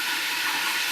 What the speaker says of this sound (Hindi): इन्हें ग्राइंड कर रही हूँ